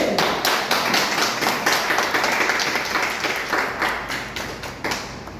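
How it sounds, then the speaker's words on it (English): Applause at a Toastmasters public speaking session, a small room of people clapping steadily and close by, the individual claps distinct and even for the full five seconds. "Round of applause for DK"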